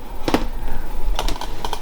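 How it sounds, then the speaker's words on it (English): Typing on a small Logitech wireless keyboard with a touchpad, a few quick clusters of close key clicks separated by brief pauses, crisp and near with no talking. "little Logitech wireless keyboard with a touchpad"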